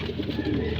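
Pigeon cooing at a home pigeon loft, a steady low, soft murmuring coo heard close and continuous for a short moment, with no talk over it.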